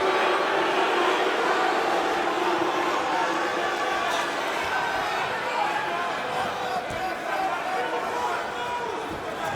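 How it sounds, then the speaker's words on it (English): Arena crowd at an MMA fight between Rampage Jackson and King Mo booing for a stand-up, a broad continuous roar of many voices filling the space, sustained and loud with slight fading. "crowd is booing for a stand-up."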